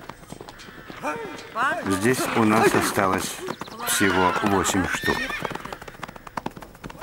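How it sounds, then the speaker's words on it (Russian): Przewalski's horses whinnying and neighing loudly in repeated calls, with hooves moving beneath, while someone speaks over the animals. "Вот вы видите лошадей Пржевальского."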